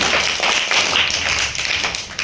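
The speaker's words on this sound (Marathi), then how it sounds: "टाळ्या वाजवा सगळेजण" Schoolchildren in a classroom clap together in a short burst of dense, close, overlapping claps with no talk.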